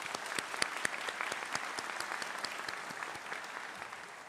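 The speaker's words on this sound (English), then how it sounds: "Please give them a round of applause" Audience clapping at a George Herbert Walker School of Business & Technology undergraduate graduation ceremony, dense overlapping handclaps at a steady moderate level that thin slightly toward the end, heard from some distance in a large hall.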